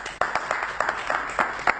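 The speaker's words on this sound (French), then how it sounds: "On applaudit pour toute l'équipe technique, voilà." An audience applauding the technical team at the close of a televised face-to-face religious debate, a short patter of scattered clapping from several people nearby.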